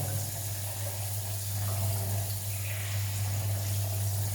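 Water pours steadily into a cup holding povidone-iodine, a continuous close splashing stream over a low hum, with no talking.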